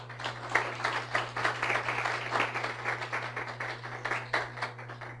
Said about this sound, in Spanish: ¿Alguien le puede dar un aplauso al Señor?